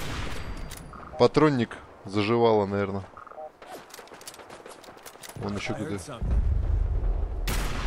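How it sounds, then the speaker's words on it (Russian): Explosions boom during combat in the video game Fallout 4, a string of sharp blasts and rumbling bursts from near and mid distance, mixed with someone talking over the game sounds. "Что за взрывы-то я не врубаюсь? Что взрывается?"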